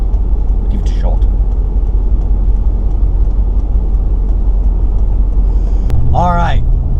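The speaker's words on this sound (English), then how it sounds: "pulling the hill in the Land Rover" Steady low engine drone and road rumble from a Land Rover LR3 with 200,000 miles climbing a hill, heard from inside the cabin; brief speech breaks in near the start and end.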